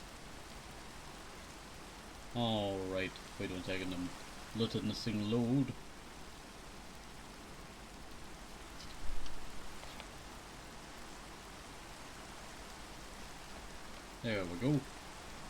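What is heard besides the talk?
rain falling in the video game Minecraft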